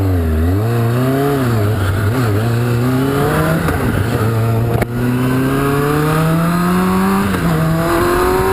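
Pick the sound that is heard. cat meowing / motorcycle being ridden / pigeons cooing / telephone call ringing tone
motorcycle being ridden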